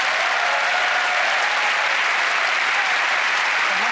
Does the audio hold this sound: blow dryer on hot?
no